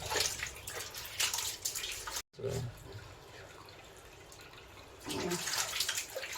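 Water runs from a tap over freshly cut, sticky jackfruit being rinsed, a steady splashing gush with a brief pause and some handling noise, while someone talks.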